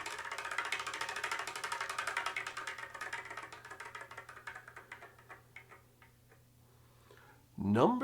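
A prize wheel spins with rapid, evenly spaced ticks that gradually slow and thin out until it stops, close and clear, followed by a voice starting to speak.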